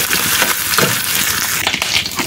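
Dried fish (shutki) frying in a pan in a village-style kitchen, giving a steady close sizzle with scraping stir sounds and no voices.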